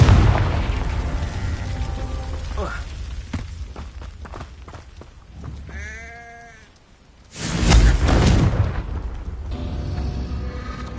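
A Confringo fire spell explodes in Hogwarts Legacy on PS5: a loud, sudden booming blast after a short quiet gap, preceded by thuds, footsteps and creature-like bleats.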